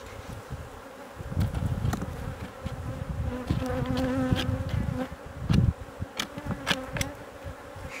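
Honeybees buzz steadily at an opened beehive during beekeeping, a dense close drone of many insects with individual bees swelling louder as they pass near, plus occasional faint knocks and handling sounds.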